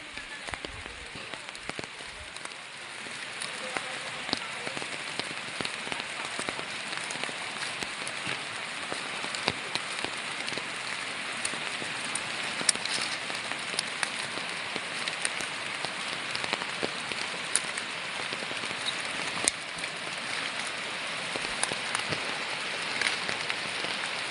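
Heavy rain pours steadily onto surfaces nearby, a constant hiss with sharper patters and drips scattered throughout, with no voices.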